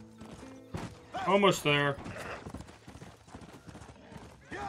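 Horse hooves clip-clop in Red Dead Redemption: Undead Nightmare, joined by a loud whinny and snorting near the middle, with someone talking over the game sounds.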